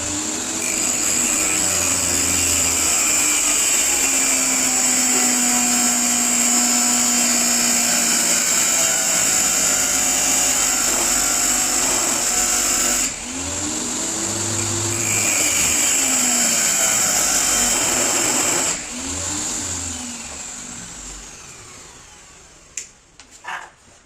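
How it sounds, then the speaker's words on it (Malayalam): A CUMI 800W angle grinder runs at a loud, steady high-pitched whine while grinding, with brief shifts in pitch as the load changes, then spins down near the end with a few clunks. "നമുക്ക് ഔട്ടർ ഇനി ഗ്രൈൻഡ് ചെയ്തിട്ട് എടുക്കണം."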